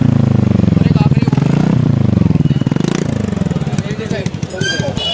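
A TVS Ntorq BS6 scooter fitted with a modified SC Project exhaust idles and revs in a close, loud, throbbing burble with rapid pulses, while voices talk over it.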